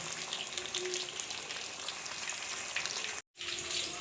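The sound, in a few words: fish frying on low flame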